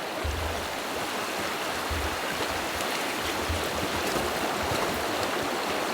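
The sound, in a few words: flowing stream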